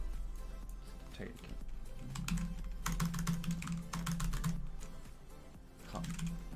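A password being typed on a computer keyboard, with irregular bursts of close key clicks running for several seconds while someone talks quietly over them.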